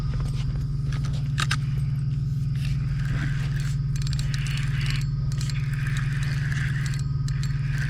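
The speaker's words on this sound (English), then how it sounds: "That has a slack line on it now that I'm tightening up." Fishing reel winding in slack line on a catfish rod during night fishing with four rods out, a steady ratcheting churn over a constant low hum, with scattered clicks and scrapes throughout.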